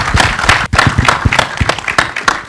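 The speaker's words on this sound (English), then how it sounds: "Huge round of applause for her." Audience applause at a film trailer launch event, loud close clapping with individual sharp hand claps clearly audible in a quick irregular rhythm, with a brief dip partway through.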